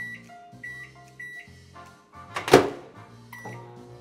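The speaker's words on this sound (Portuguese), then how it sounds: "Então, 1 minuto no micro-ondas, não precisa mexer na potência que vai estar na máxima" A microwave oven set to full power hums and gives a string of electronic beeps, close and loud, with a brief thunk of the door or handling partway through; no one speaks.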